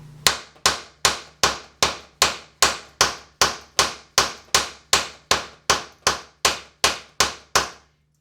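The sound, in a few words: knife chopping into dry soft pine wood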